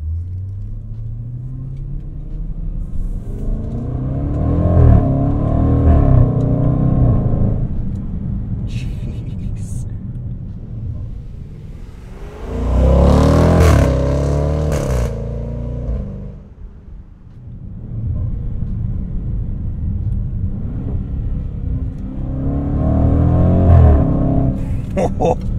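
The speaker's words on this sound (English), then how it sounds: "because you have to hear how good this thing sounds. Okay, so if I hit dynamic, it's automatically going to throw the exhaust mode on." A 2020 Range Rover Velar SV Autobiography in dynamic mode with the exhaust open and the gearbox in manual revs and accelerates in three loud, deep, rumbling surges separated by brief lulls, close to the microphone.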